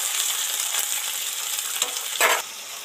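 Onions sizzle steadily in hot oil for a Bengali mutton curry, a close, even frying hiss with a brief louder burst of stirring near the end.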